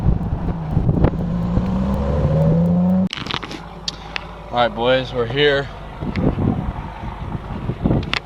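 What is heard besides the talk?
wind blowing on the microphone by a river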